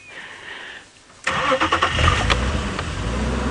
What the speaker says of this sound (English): We're going to start the car.